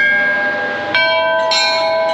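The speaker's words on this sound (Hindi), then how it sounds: "क्या घंटा बजाता हुआ," Metal temple bell at Budha Amarnath rung twice, each strike a loud bright clang with a long sustained ringing tone that carries through to the next hit, close by, with no talk.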